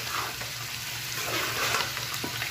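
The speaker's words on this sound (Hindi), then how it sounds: "तो दोस्तों मेरा झींगा भी फ्राई हो रहा है" Shrimp frying in a pan, a continuous close hiss and crackle of oil with a faint low hum underneath, no talk.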